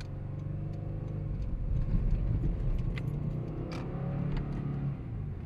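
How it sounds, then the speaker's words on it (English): A Subaru WRX being driven, heard from inside as a steady low engine and road rumble with faint jingling of keys above it, no talk. "there's the WRX, which I am driving right now"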